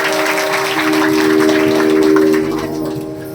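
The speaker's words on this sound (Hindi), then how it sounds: "इनके लिए जोरदार तालियों का स्वागत अभिनंदन।" Clapping from the audience at a Bhagwat Katha gathering, welcoming an honored guest, loud and close, with a sustained tonal drone, likely music or a harmonium, running beneath the claps before they thin out.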